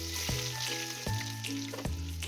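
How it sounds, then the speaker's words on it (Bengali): Large diced potato chunks frying in oil over low heat, giving a steady close sizzle with a few soft knocks as the pieces are moved around in the pan. "আলুগুলোকেও সেই তেলের মধ্যে আমি ফ্রাই করে নেব"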